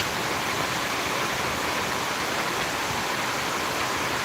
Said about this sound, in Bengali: অনেক বৃষ্টি হচ্ছে এখানে